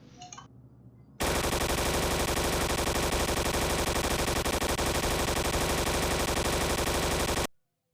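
Rapid, sustained machine-gun fire in a video game, loud and dense, bursting in after a brief quiet lead-in and running unbroken for about six seconds before cutting off abruptly.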